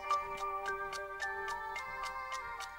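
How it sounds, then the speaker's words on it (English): A clock ticks steadily and evenly at about three ticks per second, heard softly within a song's sustained musical tones. "like the way you can hear the chimes and stuff, and like the ticking of a clock."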